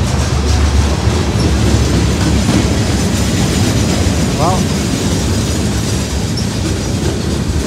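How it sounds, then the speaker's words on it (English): A long freight train rolls past a wide commuter rail station platform, a steady loud rumble and clatter of wagons filling the whole stretch, with a brief squeal midway and someone speaking over it. "I got the freight train is still going"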